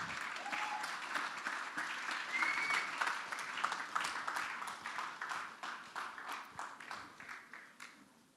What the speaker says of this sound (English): Can we please keep clapping till the time Manoj Bajpayee takes his seat?